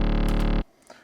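Unprocessed synth bass patch in Serum, a dense sustained buzzy tone held loudly for about half a second before cutting off abruptly, followed by faint low rustle.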